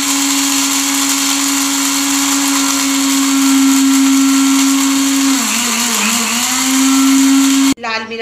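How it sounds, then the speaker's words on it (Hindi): A kitchen blender grinds whole spices for biryani masala, a loud steady motor whir with a brief pitch dip as the load shifts, then it cuts off abruptly and a voice follows. "अब इसको हम ब्लेंड कर लेंगे।"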